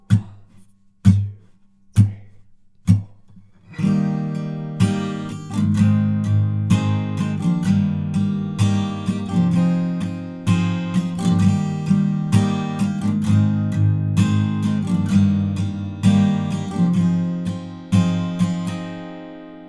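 Acoustic guitar chords: a few single strums ring out, then steady rhythmic strumming runs through a chord progression, close and clear, with no voices.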